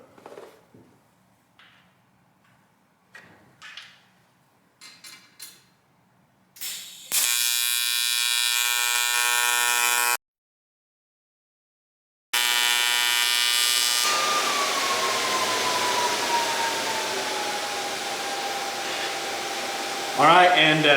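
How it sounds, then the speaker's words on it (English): A Miller Multimatic 220 TIG-welds aluminum: a steady high-pitched electric buzz runs loud for several seconds, breaks briefly, then resumes and holds, following quieter scattered handling clicks and noises. "So we're gonna go ahead and TIG weld some aluminum."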